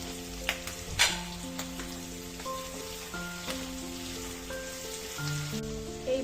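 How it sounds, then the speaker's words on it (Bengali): Onion and capsicum sizzle and crackle steadily in a hot pan while cooking for chili chicken, with a few sharper stir clatters; no talk over it. "এই পেঁয়াজ আর ক্যাপসিকামটাকে এমনভাবে ভাজতে হবে, সিদ্ধ হবে, অথচ কালারটা ঠিকঠাক থাকবে।"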